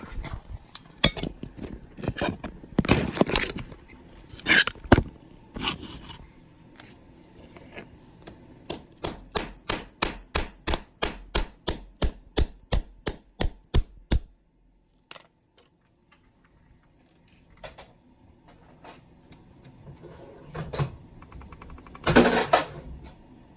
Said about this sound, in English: let's go ahead and punch a hole in the 2 Florida ones.